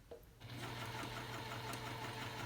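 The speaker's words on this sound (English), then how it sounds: "I am just going to sew this up" A sewing machine stitches a pillowcase at a steady, fast rhythm. The motor hums and the needle clatters continuously and close by after a brief quiet start, with no talking.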